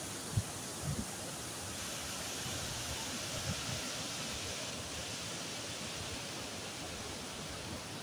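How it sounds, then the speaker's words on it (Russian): Mountain river Kuban rushing through a gorge near the slopes of Elbrus, a steady broadband roar of flowing water that stays loud and constant throughout with no talking. "Вот откуда берет начало свое река Кубань."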